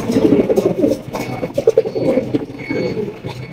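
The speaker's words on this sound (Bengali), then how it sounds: "তো দেখতে পাচ্ছেন মাশাআল্লাহ অনেক সুন্দর এক জোড়া কবুতর" A pair of Lahori pigeons coo close by in soft, repeated throaty bursts, with a brief pause between phrases against a faint room background.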